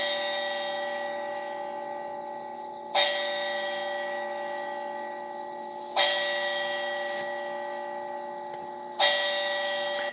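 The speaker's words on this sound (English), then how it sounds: "So you have the bell rang 4 times." A single bell rung four times during a moment of silence at a memorial gathering: slow, evenly spaced strikes about three seconds apart, each ringing out and fading into the next, clear and alone.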